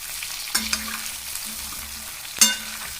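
Brinjal and bombil (Bombay duck) fried in a pan for a Maharashtrian dry vegetable dish: soft continuous sizzling, with two sharper scraping clinks as the spatula stirs, and no voices.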